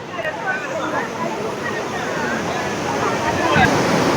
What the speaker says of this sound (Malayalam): വെള്ളം ഇങ്ങനെ ശക്തിയായിട്ട് വീഴുന്നതിൻ്റെ ആ ഒരു മുഴക്കം